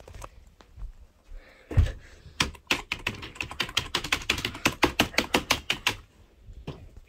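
Rapid keyboard typing, a fast run of sharp, close clicks with a few scattered taps and a thump before it, then fading to a couple of last keystrokes.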